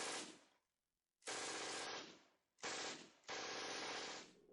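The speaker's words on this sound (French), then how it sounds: "le MG42 produisait un son sourd très distinctif" Three long bursts of German MG42 machine gun fire from World War II, each a dense, rapid-fire roar lasting about a second, separated by short gaps, loud and close with no talk.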